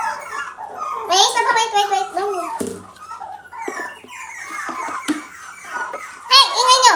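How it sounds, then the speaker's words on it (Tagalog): Puppies yipping and whimpering in high, whiny bursts close by, mixed with a person's voice talking over them in a small home. "Ingay ng mga puppies ko."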